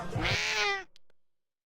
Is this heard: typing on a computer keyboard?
no